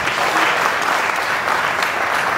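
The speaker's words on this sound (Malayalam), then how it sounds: "നല്ലൊരു കൈയടി എടുക്കാവോ" An audience at a valedictory function claps in sustained, dense applause, loud and close, with no voices standing out.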